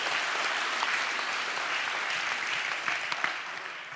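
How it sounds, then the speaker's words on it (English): A crowd applauds steadily, a dense wash of clapping that fades slightly toward the end. "Give him a clap."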